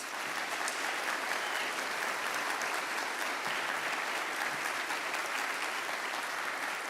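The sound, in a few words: graduation audience applause, standing ovation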